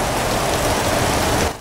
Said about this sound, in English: Dark skies and rain finally returning to our region.